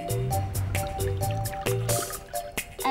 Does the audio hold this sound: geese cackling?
no